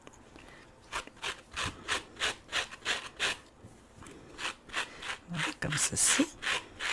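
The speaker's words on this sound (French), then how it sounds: "plus qu'on brosse, plus que c'est duveteux, moins qu'on brosse" Brush strokes rubbing over a crocheted yarn duck to raise a fuzzy nap, a steady run of soft scratchy swipes, roughly two per second, close up, with a brief spoken remark partway through.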